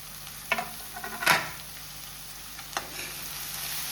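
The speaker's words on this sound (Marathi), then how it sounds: "हे बी बरे तळसून घेता" Chopped capsicum and tomato fry in a pan with a low, quiet hiss, broken by several short spoon scrapes and one louder clatter early on.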